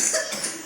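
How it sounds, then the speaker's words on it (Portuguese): A woman coughs once during a hypnosis session: a short, rough, breathy burst close to the listener, with no talking. "Ela estava tossindo agora"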